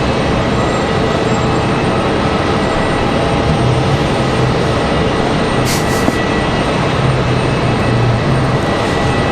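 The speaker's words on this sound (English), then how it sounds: "Got a Cessna Citation X coming in from Aspen." A Cessna Citation X business jet inbound from Aspen on approach to land at Raleigh-Durham International, a steady broadband roar with a low rumble that holds loud and even throughout.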